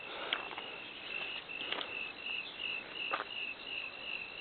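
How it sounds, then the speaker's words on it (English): Crickets chirp at night outdoors near a SpaceX Starlink launch site, a continuous high trilling pulse that stays steady and moderately distant, with a few faint rustles and taps underneath and no talking. "The insects, crickets, they're having a field day."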